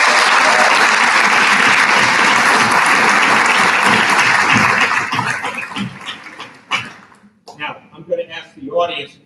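Dense applause from an audience at a veterans assembly, honoring students who sang the national anthem, sustained and loud before thinning out into a few scattered claps as voices begin.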